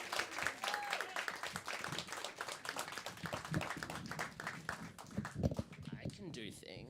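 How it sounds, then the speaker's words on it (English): Audience clapping at a live show, dense applause running throughout with people talking and cheering over it. "big round of applause for everyone."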